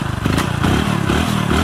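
Motorcycle engine running on calcium carbide fuel, making an odd, uneven sound: a loud, close, continuous rough chugging with clattering and scraping pulses, no voices.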